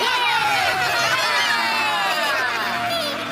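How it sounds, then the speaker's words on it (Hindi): An animated crowd at a league championship final roars for the winning champion, a loud continuous cheer mixed with shouts and whoops. "चैंपियनशिप के विजेता के लिए जोरदार तालियां बजाइए"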